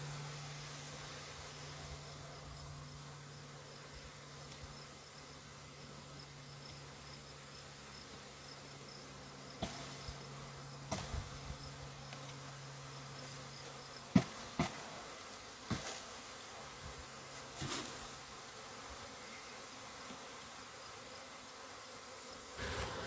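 A honey bee swarm gives off a steady, faint buzzing hum outdoors, with a few brief louder bumps and knocks partway through.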